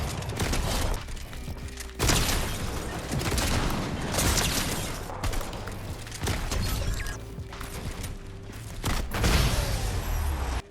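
Repeated heavy blasts of the Mythic Sovereign shotgun in Fortnite, loud booming shots every couple of seconds amid crashing game effects and continuous noisy action, no speech.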